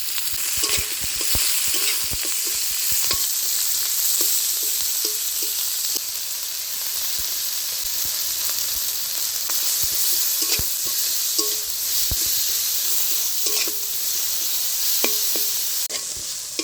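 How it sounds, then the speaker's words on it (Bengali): Loud, continuous sizzling of onions frying in a pan with a little salt and turmeric, punctuated by repeated scraping and clacking of a spoon stirring, with no voices. "আগে পেঁয়াজটা একটু লবণ হলুদ দিয়ে ভেজে নেবো"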